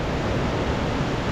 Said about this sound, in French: C'est l'accès à la cascade.